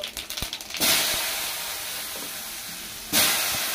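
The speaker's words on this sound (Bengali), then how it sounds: "দেওয়া হয়ে গেছে আলুগুলো, ভালো করে ভেজে নেবো" Potatoes drop into hot oil in a blackened kadai already tempered with dried chillies, bay leaf and cumin. A loud, close hissing sizzle bursts out, settles into a steady hiss, then surges again with a second burst.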